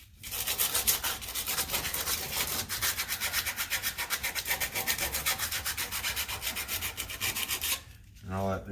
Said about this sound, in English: And all I have to do is sand this front where that race rides.